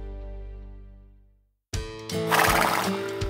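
A horse whinnies loudly in a TV advert for horse feed, followed by a sudden burst of upbeat commercial music that takes over the rest of the moment.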